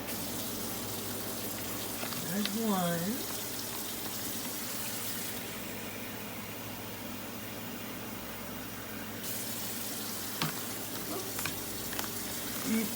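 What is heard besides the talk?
filling containers with warm water from a tap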